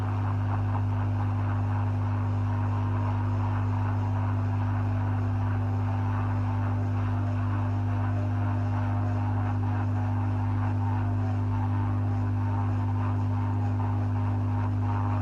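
A hot air rework gun blows steadily while desoldering a chip on a laptop motherboard, giving a constant airy rush over a low electrical hum that stays even and close.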